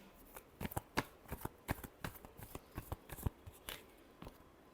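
Tarot cards being shuffled by hand, a quick run of soft riffling taps and flutters close up, fairly quiet and without talk.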